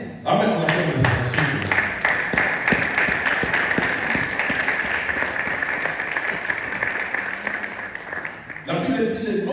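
A church congregation at a Sunday service applauds in sustained, dense clapping for several seconds, with voices mixed in before it stops abruptly.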